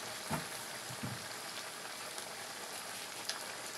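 Masala frying in a pot for Hyderabadi beef yakhni pulao, a steady soft sizzle and crackle with a few brief louder pops near the start, heard up close with no talking.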